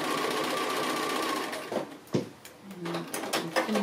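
A domestic sewing machine stitches fabric appliqué with double lines, running steadily and close for a couple of seconds before stopping, followed by a few handling clicks and thumps.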